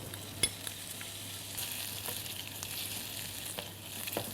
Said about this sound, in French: On rajoute notre gousse d'ail qui va parfumer un petit peu notre huile.